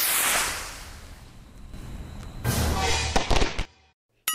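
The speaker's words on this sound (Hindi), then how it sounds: "चलना मैं तेरा सारा पटाखा जला देती हूँ।" Cartoon firecrackers bursting in a comedy scene: a long crackling roar of fireworks builds, then a cluster of sharp loud bangs near the end before it cuts to silence.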